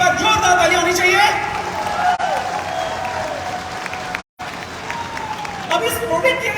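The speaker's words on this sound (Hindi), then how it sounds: "एक बार जोरदार ताली होनी चाहिए।" Strong audience applause fills the room at a product presentation on herbal veterinary goods, with steady dense clapping that swells and continues under a voice calling out over it.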